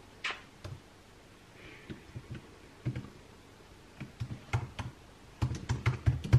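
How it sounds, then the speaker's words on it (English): Fingers tap on a computer keyboard at a desk in irregular bursts of clicks, sparse at first and then a faster, louder run of keystrokes near the end, close by in a quiet room with no talking. "whilst I'm typing"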